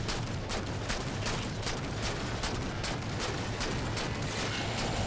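A friendly turret in the Halo shooter keeps firing in fast, regular bursts of rapid shots, loud and dense, with battle noise around it for several seconds.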